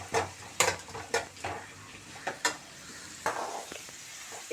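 Sliced onions sauté in a pan for mushroom rice, with a spoon scraping and stirring in sharp intermittent clinks and scrapes over a quiet low sizzle.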